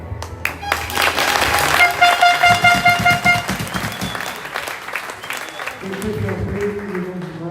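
Crowd applause and cheering break out at a youth U13 boys basketball final in Occitanie, loud and rhythmic with horn-like toots and shouts, fading into murmuring crowd noise toward the end.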